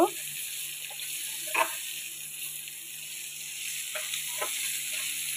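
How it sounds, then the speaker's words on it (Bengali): Bitter gourd fries in a pan and is stirred, a faint, steady sizzle with a few soft scraping stirs. "উচ্ছে কয়টা দিয়ে দেব, দিয়ে একটু নাড়িয়ে চাড়িয়ে নেব।"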